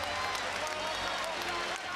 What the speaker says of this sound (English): The crowd's been up applauding the effort of these LA Lakers